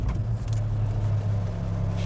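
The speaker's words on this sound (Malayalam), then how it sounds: "അപ്പോൾ നമുക്ക് ഈ വാഹനം ജസ്റ്റ് ഒന്ന് സ്റ്റാർട്ട് ചെയ്ത് നോക്കാം" A Mahindra XUV 3XO engine runs with a steady low hum and a faint higher whine, close and constant with no pauses.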